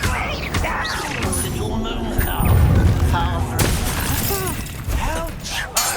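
In the video game Hogwarts Legacy, the Confringo blast spell erupts as booming, crackling bursts of explosive energy layered over battle noise, loud and continuous, with a voice shouting through parts of it.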